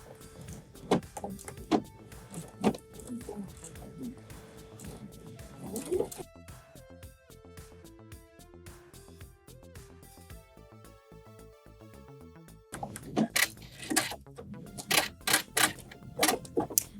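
A sewing machine sewing an invisible zipper close to the teeth runs in steady rapid bursts of stitching, with pauses and clattering handling noises between runs.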